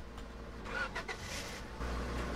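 A pickup truck in Roblox Lumber Tycoon 2 starts up with a faint cranking chatter, then settles into a low, steady engine idle that grows a bit fuller near the end.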